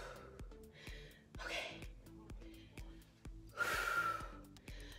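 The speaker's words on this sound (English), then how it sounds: "Make sure before you start the next one, you get your breathing under control," Heavy, gasping breaths follow a tough floor workout, with loud sharp inhales and exhales in uneven bursts over a soft, steady background beat, close to the listener.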